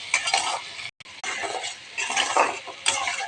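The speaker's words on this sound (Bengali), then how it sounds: "এবার আমি পেঁয়াজটা দিয়ে দিলাম" Sliced onion tossed into a pan of frying potatoes and carrots, followed by a brief pause and then spatula scraping and stirring over a bright, continuous sizzle.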